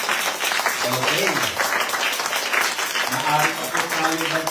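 Sustained applause from a church congregation after the Gospel reading, continuous close clapping with a speaking voice running over the top.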